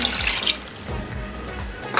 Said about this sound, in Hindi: वन कप हमने पानी ले लिया, पानी ऐड करेंगे।